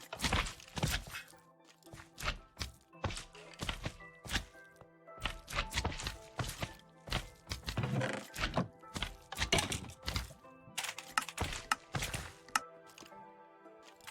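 Minecraft mob slaughter factory machine running, a dense stream of irregular thunks and chopping hits at varying loudness, busy and continuous for about fourteen seconds.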